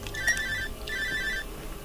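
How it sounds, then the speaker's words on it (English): A phone ringing in the horror video game Cry of Fear: two bursts of an electronic trilling ringtone separated by a brief pause, clear and prominent with faint game ambience beneath. "Oh, I'm getting a phone call."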